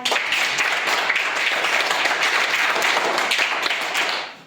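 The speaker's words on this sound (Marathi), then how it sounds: "सगळ्यांनी टाळ्या" Audience at a primary school quiz programme breaks into loud, dense clapping for a student, a sustained round of applause that fades out at the end.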